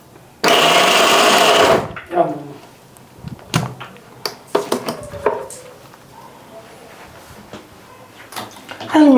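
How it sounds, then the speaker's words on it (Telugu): A kitchen mixer grinder whirs loudly for about a second and a half, then cuts out, followed by clattering kitchen handling and scattered knocks. "మిక్సీ ఆన్ చేస్తున్నావు నువ్వు"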